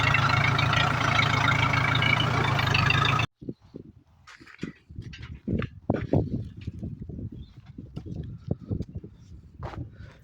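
An Indo Farm 3055 DI tractor engine idles with a steady low rumble for about three seconds, then cuts off abruptly to scattered quieter noises.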